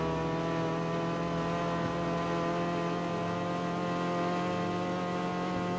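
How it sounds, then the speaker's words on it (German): A Honda car engine in the CarX Street racing game holds a steady high-pitched scream, a sustained buzzing drone with a constant pitch, loud and unbroken throughout, with no talk. "Könnte ja auch sein, dass der Honda-Motor einfach nur hart am Screamen ist."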